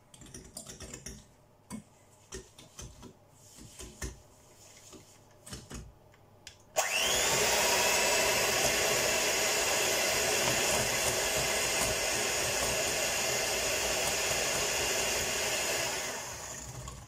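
An electric mixer whips eggs with sugar into a creamy batter for chocolate and almond cookies, starting abruptly after quiet kitchen clatter and then whirring loudly and steadily for about ten seconds before easing slightly near the end.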